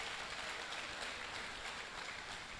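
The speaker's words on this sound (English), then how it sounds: "So please, give a round of applause to 81 set." An audience at a university valedictory lecture for a retiring professor gives sustained applause, a dense, even wash of clapping that stays steady throughout with no speech.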